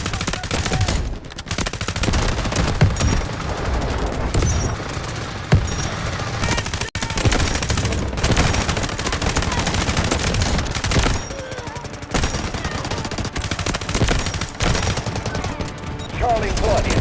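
Sustained gunfire from the shooter game Delta Force, dense machine-gun bursts and single shots crackling almost continuously at close range for the whole stretch, with brief gaps between volleys.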